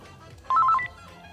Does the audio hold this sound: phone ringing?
yes